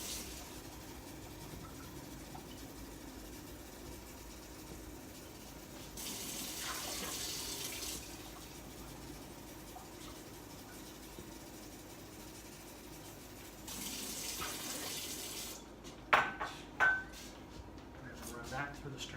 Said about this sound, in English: Run that through the strainer as well.